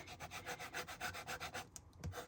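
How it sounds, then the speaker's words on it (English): Folded paper burnished with a bone folder, a rapid series of even back-and-forth rubbing strokes, close and fairly quiet, ending with a couple of light taps. "use our bone folder, and go ahead and"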